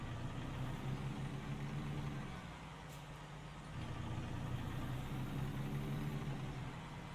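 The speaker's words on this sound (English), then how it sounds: "I did want it to be where you could hear the truck." Peterbilt truck engine in American Truck Simulator, driving near Whitehorse and Watson Lake in the Yukon, a low quiet steady drone that dips and swells slightly, heard faintly in the background with no talk.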